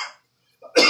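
A single harsh cough bursts out near the end, loud and close, after a brief faint sound and a moment of silence.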